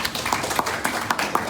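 A small audience at a formal meeting gives light, scattered applause, steady and moderately close, with a murmur of voices underneath.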